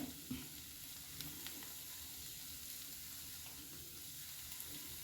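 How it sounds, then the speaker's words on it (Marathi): Carrot barfi mixture sautéed in a kadhai gives a quiet, steady sizzle with soft stirring scrapes, continuous and close, with no talking. "त्यामुळे आपल्याला हे व्यवस्थित परतून घ्यावं लागतं."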